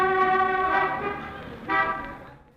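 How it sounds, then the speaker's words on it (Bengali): A bus horn blares on a busy city street: a long loud blast, then a second shorter one, close by and fading at the end. "হঠাৎ একটা বাস বিকট শব্দে হর্ন বাজিয়ে রাস্তায় দাঁড়িয়ে গেল।"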